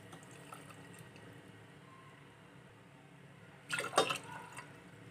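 Two cups of water are poured for basbousa syrup, a short, loud splashing gush near the end after a quiet kitchen background with no talking.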